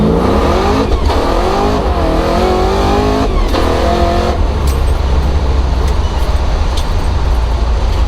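A supercharged Chevy Nova roars loud and close while driving hard, its engine climbing through rising revs with brief dips between shifts, then settling into a steady rumbling drone.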